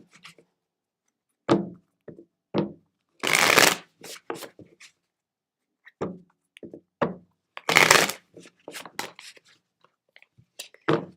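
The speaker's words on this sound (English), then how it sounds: "I want an extra special shuffle on this one." A deck of cards is shuffled in bursts during a psychic reading, with sharp riffling runs and quieter taps and snaps scattered through the pauses, close and fairly quiet.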